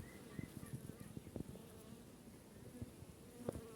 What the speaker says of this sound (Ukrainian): Як можна бачити, бджіл тут вистачає